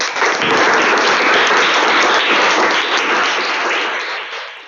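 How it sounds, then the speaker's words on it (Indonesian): Sustained applause from a classroom audience, a dense wash of many hands clapping loudly and steadily for several seconds before easing slightly at the end. "Sekali lagi tepuk tangan dong untuk ketiga kelompok ini."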